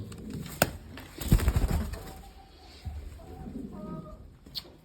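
Pigeons in a loft make soft cooing calls and fluttering, with wing flaps and scuffling up close, faint clucks and short tonal calls scattered through a quiet space.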